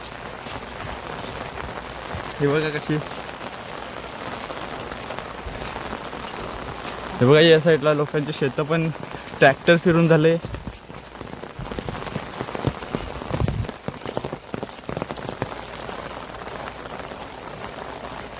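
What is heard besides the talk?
heavy rain on farm fields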